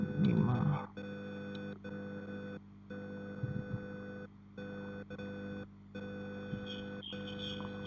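Repeated electronic beeping from the buzzer of a simulated keypad safe lock with an LCD display, a steady tone broken by short silent gaps into a regular on-off pattern, fairly faint and with no talk.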